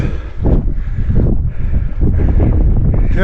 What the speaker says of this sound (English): Yeah, it's getting windy up here on the ridge.